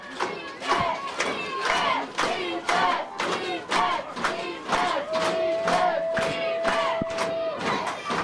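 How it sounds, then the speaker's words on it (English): Youth football crowd at a junior pee wee game, yelling and cheering loudly and continuously to rally their defense, a dense roar of many voices with a sustained whistle tone near the end. "You can hear their crowd. They want that defensive stand."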